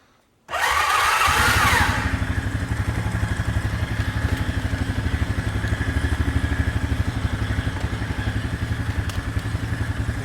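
A broken four-wheeler ATV engine starts up and settles into a loud, steady idle with a fast, even chugging pulse, close to the listener and running on with no one speaking.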